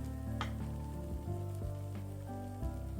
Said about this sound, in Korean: 그래서 이렇게 부치면 바삭바삭하니 튀김보다 맛있어요.